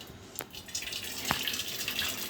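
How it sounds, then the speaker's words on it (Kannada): Cooking water is poured off boiled lentils for rasam, giving a steady close splashing and trickling stream with a couple of small splashes. "ನೀರು ಸೋಸ್ಕೊಳ್ಳೋಣ ಸ್ವಲ್ಪ."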